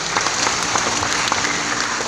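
A church congregation at a Christmas celebration claps together in a full, steady round of applause, close and fairly loud, sustained for about two seconds with no talk over it.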